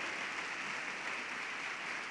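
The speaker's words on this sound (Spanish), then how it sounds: "Den un aplauso al Señor." Dense, sustained applause from a church congregation, an even wash of clapping filling the room without pause.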